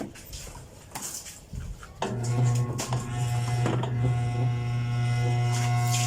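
A faulty electric fan switched on for testing whirs and rattles as it struggles to spin, a steady loud mechanical hum with clicking noise starting about two seconds in after quieter handling sounds.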